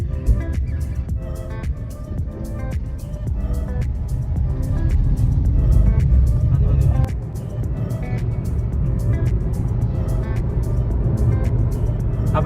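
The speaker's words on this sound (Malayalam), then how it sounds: "ഭയങ്കര ട്രാഫിക് ബ്ലോക്കാണ്." Heavy road traffic in a jam on the Perinthalmanna–Cherpulassery route in Kerala: a dense, continuous rumble of cars, buses and trucks close by, with engines idling and vehicles creeping past, and no talk.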